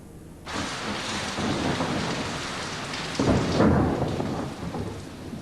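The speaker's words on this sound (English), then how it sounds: "For days it rains and rains at Gioia del Colle, the squadron's headquarters in Italy" Heavy rain pours steadily in a thunderstorm at an Italian airbase, a loud dense hiss with a deep roll of thunder swelling midway, no voices.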